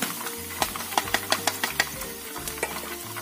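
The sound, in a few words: frying food in oil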